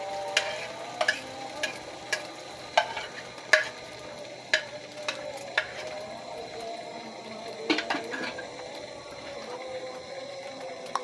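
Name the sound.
egg frying in a pan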